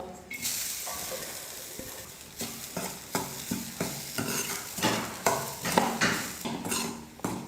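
Grated coconut dry-roasting in a kadai while a spatula scrapes and stirs it in a steady rhythm, each stroke a soft rasping swish over a faint sizzle, heard close and alone.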